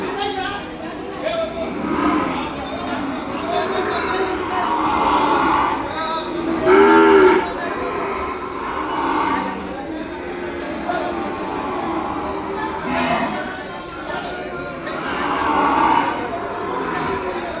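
Ongole bulls and calves at the Kodada cattle market lowing in long deep moos, one louder near call among others, under a busy crowd murmur and people talking.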